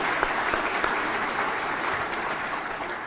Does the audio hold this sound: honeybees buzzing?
no